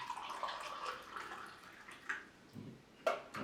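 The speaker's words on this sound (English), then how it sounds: "you put some hot water, boiled water inside" Hot boiled water poured into a cup with squeezed lemon for lemon ginger tea, a faint close trickle and splash in uneven bursts.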